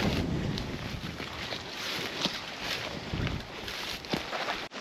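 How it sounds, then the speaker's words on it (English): Steady, roaring wind on an exposed mountain ridge at Sarinda Peak, west of Tubac, Arizona, buffets the microphone with low rumbling gusts throughout, broadband and continuous, with no voices. "this ridge is exposed, so it is very windy today"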